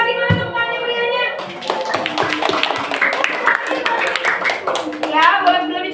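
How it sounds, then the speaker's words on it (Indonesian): Children clap their hands together in a classroom, bursts of quick uneven claps mixed with excited young voices and an adult speaking. "Sekali lagi mana tepuk tangan beriannya?"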